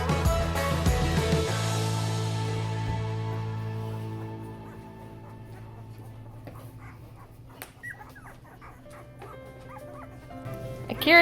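Litter of Bernedoodle and Goldendoodle puppies whimpering and yipping nearby, thin high whines and short yips scattered throughout over a low background hum.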